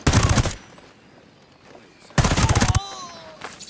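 Automatic gunfire in Ghost Recon Breakpoint: two loud, close bursts of rapid shots, each about half a second long and separated by a quiet pause, the second burst followed by a faint ringing tail.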